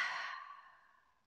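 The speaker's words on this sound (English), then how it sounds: "take three deep breaths in with me together" A single long, soft exhale fades gradually away, close and quiet, like a slow deep breath during a guided mindfulness exercise.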